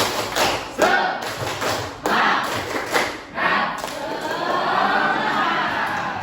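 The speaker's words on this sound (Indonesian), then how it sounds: "1, 2, 3, tepuk semangat" A school class performing a rhythmic spirit clap, a string of sharp, patterned claps and thumps in bursts, followed by a sustained wash of clapping and crowd noise, fairly close.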